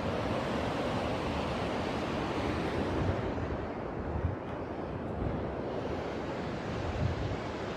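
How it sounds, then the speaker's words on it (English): Strong ocean waves break on a beach in rural Portland Parish, Jamaica, a steady, loud surf roar with wind buffeting the microphone and slight swells in intensity, no voices. "There's some strong waves here"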